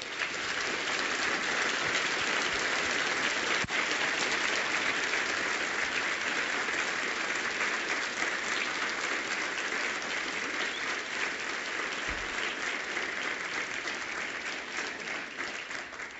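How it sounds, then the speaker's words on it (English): A large conference audience applauds a speaker, a dense, sustained clapping that stays loud and even for about sixteen seconds before tapering slightly at the end, with no speech over it. "I'd like to ask everyone to give Alex Miller a big hand."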